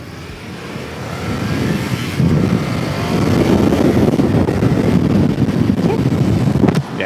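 An Indian Scout Rogue motorcycle rides along, its engine rumbling steadily and building louder through the pass, with heavy wind buffeting the microphone and no talk.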